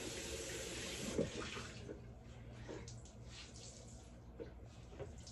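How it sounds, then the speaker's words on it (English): Scalding hot water runs steadily from a bathroom tap onto a washcloth in a sink, a close, continuous splashing rush with small shifts as the cloth moves under the stream. "I get it with scalding hot water."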